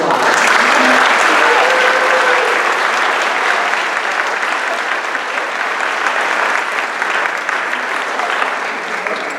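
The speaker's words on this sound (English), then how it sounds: "please stand so we can give you a round of applause" Sustained audience applause at a gathering honoring breeder keepers; a large crowd claps steadily and loudly for over nine seconds, a continuous wash of hands that slowly eases off, with a faint voice briefly audible early on.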